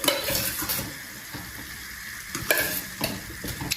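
A beetroot laddoo mixture cooks in homemade desi ghee, giving a steady soft sizzle with frequent scraping and stirring clatter from a utensil against the pan, close up with no talking.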